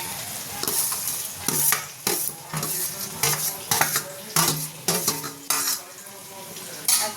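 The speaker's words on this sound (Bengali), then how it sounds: "এই যে ভেজে রাখা সবজিগুলো এখন দিয়ে দেবো" Fried vegetables tip into a hot cooking pan, giving a loud sizzle while a utensil repeatedly scrapes and stirs against the metal in uneven bursts, close and without speech.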